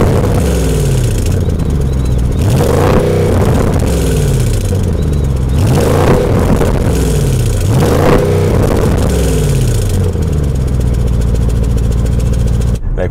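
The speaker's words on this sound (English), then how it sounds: "The engine, you can hear the rumble, the roar." A 2020 Audi S8's V8 engine rumbles and roars loudly and steadily, with repeated rising and falling revs over about thirteen seconds and no talk on top.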